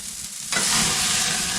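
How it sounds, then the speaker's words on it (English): Grease fire flaring up while burgers cook: a low murmur suddenly bursts into a loud, broad, crackling whoosh of sizzle that holds steady, up close. "Whoa! Ooh, grease fire."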